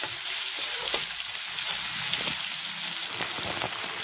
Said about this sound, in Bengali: এবার দেব পেঁয়াজ কুচি